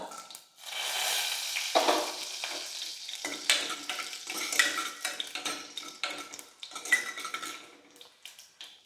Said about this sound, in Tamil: வரமிளகா பெருங்காயம் எல்லாமே வந்து நல்லா பொரிஞ்சிருச்சு